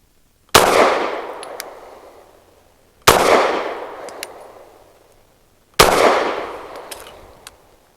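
Three single shots from a Walther PDP F Pro pistol firing Fiocchi Defense Dynamics 147 grain jacketed hollow point rounds, each a sharp loud crack with a long decaying echo, spaced about two and a half seconds apart.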